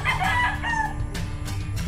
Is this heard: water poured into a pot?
no